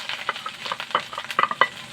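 Garlic sautés in a pan for a vegetable dish cooked in coconut milk, producing a close, crackling sizzle with uneven popping spits and stirring scrapes.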